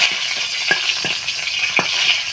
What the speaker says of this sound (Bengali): মরিচগুলোকে গরম তেলে ছেড়ে ভেজে নেবেন